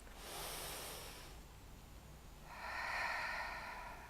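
Slow, relaxed breathing during an energy exercise, one soft airy breath followed by a second, fuller exhale, close and quiet.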